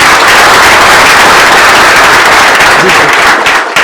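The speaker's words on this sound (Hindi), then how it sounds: "हाथ खड़ा करो, तालियां बजाओ सर के लिए।" An audience at an event breaks into loud, dense applause, a continuous wash of many hands clapping close up that fades slightly at the end.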